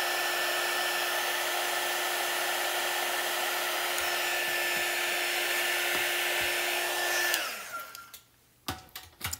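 A hair dryer blows steadily and loudly on a wooden tiered tray for about seven seconds, then cuts off and winds down, leaving a few faint handling knocks.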